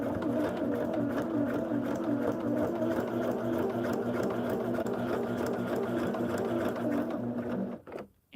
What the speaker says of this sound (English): So we just have a nice straight line to stitch here.